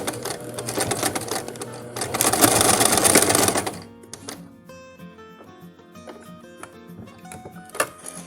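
A sewing machine stitches a long-sleeve shirt for a rag doll, a close, fast rattling run of needle strokes that grows louder before stopping abruptly, followed by quieter faint clicks and handling sounds.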